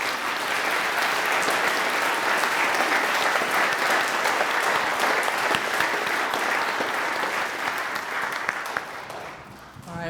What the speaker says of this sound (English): Let's give everybody here another round of applause.